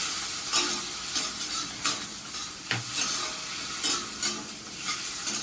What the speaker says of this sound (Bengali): এবার টমেটো ভাবে লম্বা লম্বা করে স্লাইস করে রেখেছি আর কাঁচা লঙ্কা মাঝখান থেকে চিড়ে নিয়েছি দুটোকেই একসাথে দিয়ে দিলাম